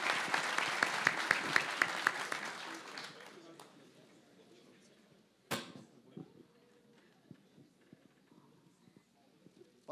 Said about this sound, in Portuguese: Eu peço uma salva de palmas, então, a toda a equipe